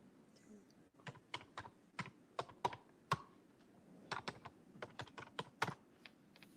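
Rapid, irregular keystrokes clatter on a computer keyboard, some taps sharp and louder, over a faint background murmur.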